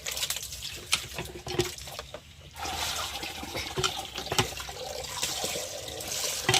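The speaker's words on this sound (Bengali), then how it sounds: "আর দেখো বালতিতে জলও ভরে নিয়েছে, আর একটু জল ভরবো" Tap water pours steadily into a bucket at an outdoor washing spot, a continuous close splashing rush under a few clatters and knocks.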